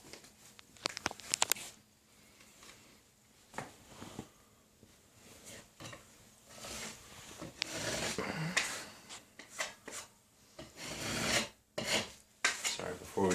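Sanding a drywall patch by hand, a close raspy rubbing that comes in uneven strokes and grows louder and more continuous toward the end, alone without talk.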